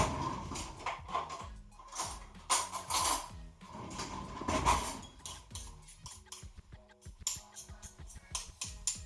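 A spoon mashing herb butter in a bowl, with irregular soft clinks, taps and scraping strokes against the bowl, close and fairly quiet.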